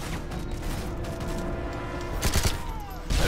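Gunfire in the Call of Duty Modern Warfare 3 video game, set in London, with a steady rattle of automatic shots and bursts at moderate loudness, a few sharper, louder shots near the end.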